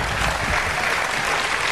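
An audience applauds at a televised Italian festival show, giving a brief, full burst of clapping that stays steady throughout with no voices on top.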